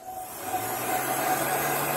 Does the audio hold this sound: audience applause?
no